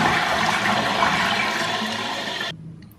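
A repaired toilet cistern refilling after a flush, a loud close rush of water that runs steadily for a couple of seconds and then cuts off abruptly, leaving a quiet trickle.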